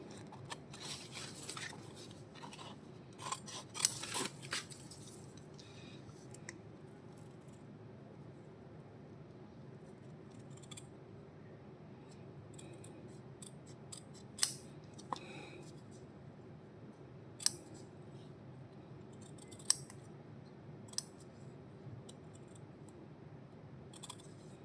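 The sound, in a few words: scissors cutting a stiffened crochet earring piece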